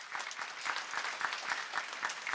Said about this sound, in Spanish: Me gustaría un aplauso, por favor.